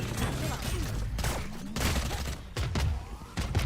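Grenade and satchel explosions in the video game Valorant: several heavy bursts and thuds landing in quick succession amid gunfire-like crackle, with a voice talking over part of it.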